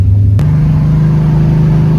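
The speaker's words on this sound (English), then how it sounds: "We are cruising down the road." A drag-and-drive car cruises down a Texas highway at about 65 mph and 3,300 rpm, giving a loud, steady engine drone with a brief pitch shift near the start and no talk.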